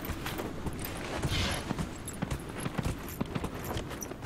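Horse hooves clip-clop steadily in Dragon Age: Inquisition, a brisk riding gait of repeated close hoofbeats over a busy game soundscape, with no talk.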